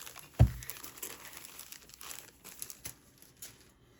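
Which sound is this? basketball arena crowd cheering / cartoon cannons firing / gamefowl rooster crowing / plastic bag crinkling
plastic bag crinkling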